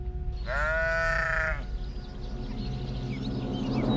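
A single bighorn sheep bleat in dry, rugged Yellowstone mountain terrain, a clear harmonic call lasting about a second, followed by quiet outdoor ambience and faint background sounds.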